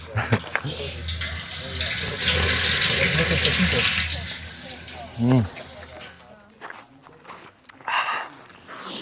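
Water rushes in a steady, loud gush inside a well on a mountain trip in Slovakia, then fades as people talk nearby with footsteps and shuffling.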